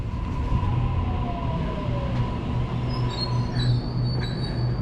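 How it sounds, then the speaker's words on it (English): A city-bound passenger train rolls past Wollstonecraft Station, a steady rumble of wheels on rails with a long metallic squeal and high screeching tones building near the end. "city-bound train"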